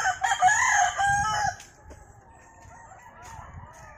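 A young rooster, a stag, crows once close by, a bright strained call lasting about a second and a half before fading into quiet farmyard background.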